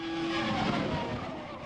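A Formula One racing car engine at high revs, a loud, buzzing tone that rises and shifts pitch over a short burst, close and alone without talking.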